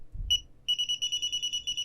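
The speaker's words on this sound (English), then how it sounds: "Alright, so now our system is in alarm" A DSC Neo security system in alarm gives off a loud, rapid series of high electronic beeps after a brief low thump and a short pause, then beeps on steadily without any voices.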